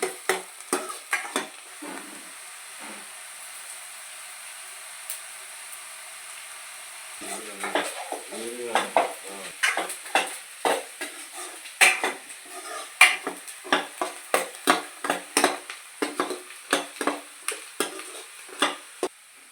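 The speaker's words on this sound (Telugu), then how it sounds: "ఒక 5 మినిట్స్ వేగాలండి ఆనియన్స్, పచ్చిమిర్చి." Onions and green chillies fry in a pan, soft sizzling with a few scrapes, then a quiet gap, followed by a long run of quick rhythmic stirring clacks of a spoon against the pan.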